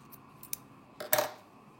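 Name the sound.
scissors cutting crochet yarn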